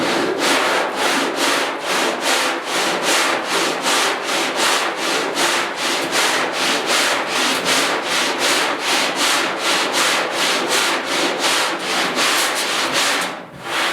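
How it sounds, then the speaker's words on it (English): Steady, rhythmic back-and-forth sanding on the driver's door panel of a 1972 Ford 4x4 truck, close and loud, with regular strokes continuing throughout and a brief pause near the end. "does that ever make a difference when you're sanding."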